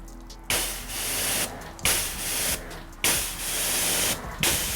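A pressure washer gun sprays water in four loud, close bursts as the trigger is pulled and released, each hiss starting sharply and cutting off in a short gap.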